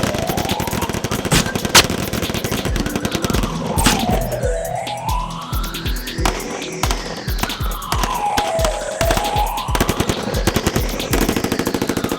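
Rapid bursts of automatic gunfire ring out in a crazy sci-fi B-movie about a Martian infestation. Loud, dense rattling volleys play against wailing, sweeping electronic tones for the whole stretch.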